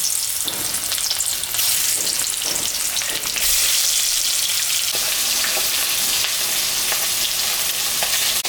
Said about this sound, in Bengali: এখন আমি ভাজবো। তেল গরম হয়ে গেছে।